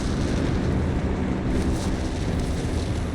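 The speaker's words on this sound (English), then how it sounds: "Artillery raining down here." Artillery explosions in the video game Company of Heroes 3 form a loud, continuous roar of dense blasts and rumble with no clear gaps between impacts.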